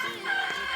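A chicken at a farmhouse in Amadeo gives a short, close burst of clucking calls lasting under a second.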